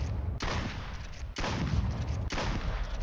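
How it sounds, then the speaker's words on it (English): Three loud, heavy gunshots in the Duck Season video game, evenly spaced about a second apart, each with a broad blast and a short ringing decay. "Fire the gun until I get a golden bullet."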